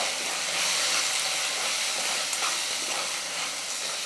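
Chili, coriander and garam masala powders fry in hot oil in a pan, giving a steady, close, continuous sizzle and hiss with no talk over it.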